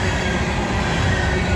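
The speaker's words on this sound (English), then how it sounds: "they're still be using CSX locomotives on this train." A coal train hauled by CSX locomotives rolls past close by with a loud, continuous rumble of wheels on rail and steady low-frequency roar, and no voice is heard.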